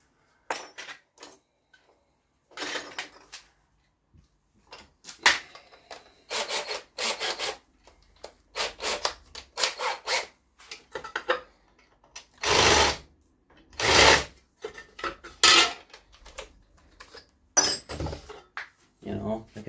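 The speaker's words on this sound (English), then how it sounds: "Clean up these burrs on the back." A hand file rasps burrs off the back of a fabricated metal under-seat tray for a Suzuki GSX-R, heard as bursts of scraping strokes, some long and loud, alternating with someone talking between them.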